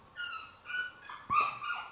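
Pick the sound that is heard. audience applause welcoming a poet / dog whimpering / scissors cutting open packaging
dog whimpering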